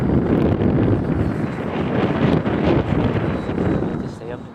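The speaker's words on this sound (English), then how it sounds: "It's too windy, I can't lie." Strong gusty wind buffets the microphone with a loud, continuous low roar that swells and eases slightly over several seconds, outdoors, with no other sound standing out.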